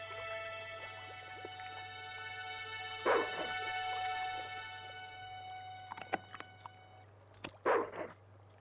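A dog in the video game Broken Sword: The Smoking Mirror gives three short, separated barks against a quiet background hum of game ambience.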